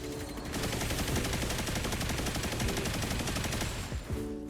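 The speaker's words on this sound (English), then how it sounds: "I feel like using a machine gun, that is the benefit to using it." A light machine gun in the video game Destiny Rising fires a steady, rapid, loud sustained stream of shots with no talk, ending in a brief pause near the end.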